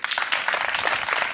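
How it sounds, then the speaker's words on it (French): A crowd at a political candidacy declaration claps briskly for a newly introduced official. The short burst of close, dense clapping is unbroken by speech. "Jérôme Lavou, que je vous demande de l'applaudir."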